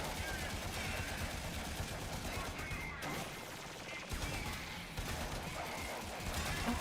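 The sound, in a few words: gunfire shooting at a target in a video game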